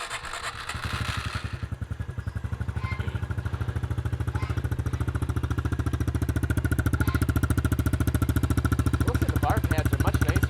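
Pit bike engines rumble steadily at idle after a brief start, a loud, rapid chugging pulse that continues throughout with faint background voices.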